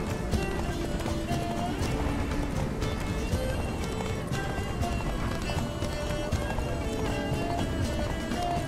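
A horse gallops in The Witcher 3: Blood and Wine at a steady, rapid rhythm, hooves drumming close and continuous, with a busy game-like background underneath.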